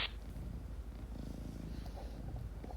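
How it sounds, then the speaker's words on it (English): A pet cat purring up close: a continuous low, rhythmic rumbling purr, quiet and steady, alone without any talking. "His name is Grumbus, and he's my cat."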